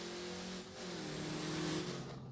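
A car engine revving steadily in the No Limit Drag Racing 2.0 video game, a sustained mid-pitched drone that swells slightly before a sudden sharp burst at the end.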